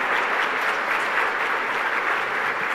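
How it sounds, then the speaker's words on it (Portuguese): Warm round of applause from a Sunday Mass congregation at the Paróquia dos Sagrados Corações, welcoming visiting parishioners; an even, continuous wash of many hands clapping, moderately loud, with no voices on top. "Vamos dar uma salva de palmas para os nossos visitantes?"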